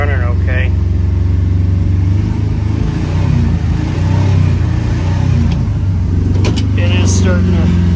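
A 1975 International 200 pickup engine runs steadily with the throttle held, a loud, close, even rumble that surges slightly, with someone talking over it.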